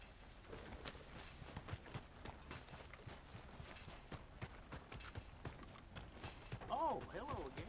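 Horse hooves clip-clop in a steady walking rhythm in Red Dead Redemption 2, moderately close and mixed under ambient game sound, with speech audible nearby.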